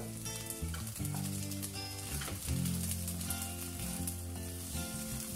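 Carrots sizzle steadily in a hot pan for a Chinese vegetable dish, a constant close frying crackle with music playing over it.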